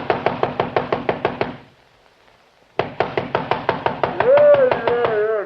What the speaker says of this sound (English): 10 minutes later I was pounding on his door.